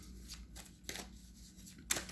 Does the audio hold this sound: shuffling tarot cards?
yes